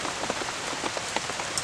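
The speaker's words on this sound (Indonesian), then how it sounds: "Ini lumayan deras ya teman-teman hujannya." Heavy rain drums on a multi-level camping shelter in a forest, a dense, loud, constant patter with scattered sharper drops and no voices.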